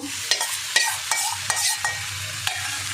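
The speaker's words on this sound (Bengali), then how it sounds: "ভাজা হয়ে গেছে দেখুন বন্ধুরা এবার আমি পনিরটা দিয়ে দেবো" Paneer sizzles in a pan while a spatula scrapes and clacks against it about seven times at uneven intervals, close and fairly loud.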